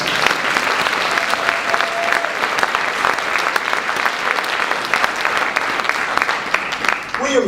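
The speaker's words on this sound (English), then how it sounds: "Would you give that young man another rousing applause?" Rousing applause from the audience at a Tuskegee Airmen honor ceremony, thick and even clapping from many hands that holds steady throughout and drops off abruptly near the end.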